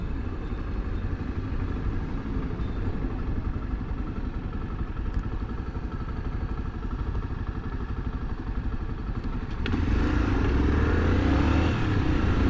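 A 2013 Honda XRE300 300cc motorcycle engine hums steadily while riding on a road, a continuous low drone with wind rush, growing louder and rougher after about ten seconds as the rider accelerates.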